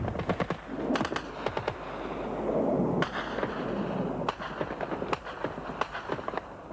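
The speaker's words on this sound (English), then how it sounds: "The airstrikes continued relentlessly for over a week." Airstrike explosions from bombing over a week-long campaign, heard as a rapid series of sharp, cracking blasts and bursts over a rumbling, noisy background, some spaced irregularly, loud and fairly close.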